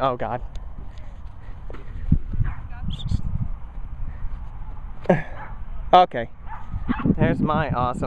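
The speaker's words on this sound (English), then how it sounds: "there's little yippy dogs coming" Small yappy dogs at a dog park let out sharp, high yips and barks in scattered bursts, growing busier and closer toward the end, with a person talking over them and footsteps and movement nearby.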